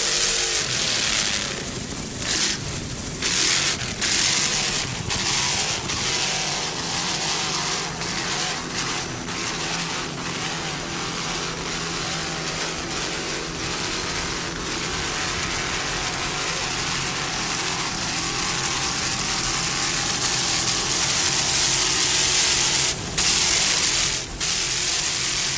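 Offshore race boat engines in M class competition at Miami, a steady loud roar with broadband wind and water rush sustained throughout, varying slightly in intensity as the throttle is worked.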